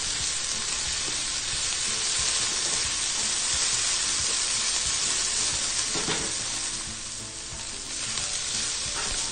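Dried chilies fry in a hot pan, giving a steady, close, crackling sizzle that runs on unbroken, with an occasional stir or scrape, and no voices.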